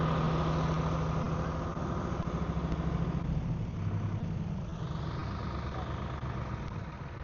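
A tractor in poor condition chugs steadily in a muddy paddy field, its engine running loud and close throughout with a constant low rumble.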